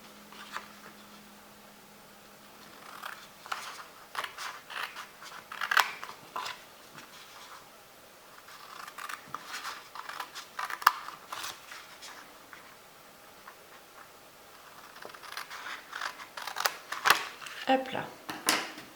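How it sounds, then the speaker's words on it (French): Paper tabs being cut with scissors while making a Stampin' Up! card box, with repeated crisp snips and rustling of paper, near and moderately loud, with a person talking in places. "on va couper à nouveau les languettes"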